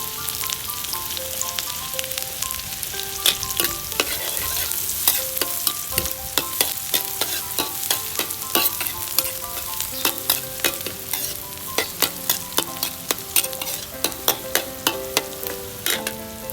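Garlic stir-fried in a wok for Thai garlic-chili roast pork, a loud continuous sizzle broken by rapid, regular metallic scrapes and clinks of the spatula, close up, with no voices.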